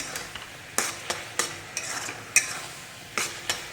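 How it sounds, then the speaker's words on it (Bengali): Grated coconut and date palm jaggery being stirred in a pan while making pitha, with scraping strokes of a spatula at irregular intervals over a soft, steady sizzle, close and moderate in level, with no talking. "নারকেল দিয়ে আর গুড় দিয়ে, খেজুরের গুড় দিয়ে পাক দিচ্ছি"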